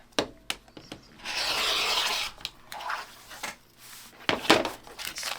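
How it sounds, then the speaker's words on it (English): Fabric half-square triangles for a quilt are trimmed with a cutting tool, giving short rasping cuts and rubbing strokes up close, with sharp clicks and taps between them. "Now I just need to trim all my half square triangles out of here."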